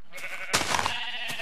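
Sheep bleat in the Minecraft video game, one wavering mid-pitched bleat up close followed by a shorter, fainter call, over quiet ambient background.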